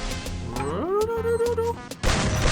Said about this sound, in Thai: อย่าโยนระเบิดเข้ามานะเพื่อน